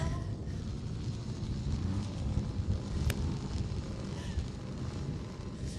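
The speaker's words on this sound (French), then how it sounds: "le vent est fort dans la ligne droite" Strong wind buffeting a microphone on the start-grid straight of the Paul Ricard motor-racing circuit, a steady loud broadband rumble that holds for the whole stretch with one brief sharp tone in the middle.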